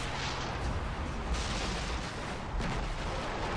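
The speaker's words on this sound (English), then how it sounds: "Did you see that explosion?" In the Far Cry 3 video game, booming blasts and rumbling gunfire roll on, loud and dense, with sharper bursts rising around the first and third seconds over a constant roar.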